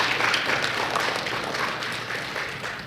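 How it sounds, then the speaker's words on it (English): A press briefing audience for a Carifta Games team applauds, a steady, moderately loud patter of clapping that carries on evenly for a few seconds with no talking. "Give them a round of applause, please."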